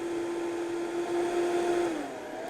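A blender blending chives whirs steadily at high speed with a strong motor hum, its pitch dropping slightly near the end.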